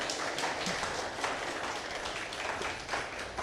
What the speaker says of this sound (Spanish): Quiero que le demos un fuerte aplauso al Señor Jesús